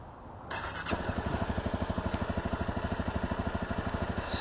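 A Honda CRF250L Rally motorcycle's starter whirs briefly before the single-cylinder engine catches and settles into a steady, rapid thumping idle close by.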